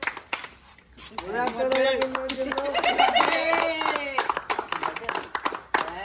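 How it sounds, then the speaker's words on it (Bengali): A group at a local cricket league prize ceremony claps in quick, scattered bursts around a loud voice calling out over them, the clapping continuing through and after the talk. "জোরে হাততালি হয়ে যাক"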